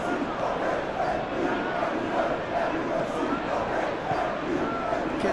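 A large stadium crowd in a football video game roars and chants in sustained waves, loud and continuous, filling the background without clear individual voices.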